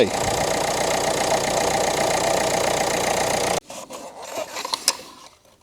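A Renault Clio IV engine, low on oil, idles loudly with a steady rattling drone for a few seconds, then cuts off, leaving quiet clicks and handling noises.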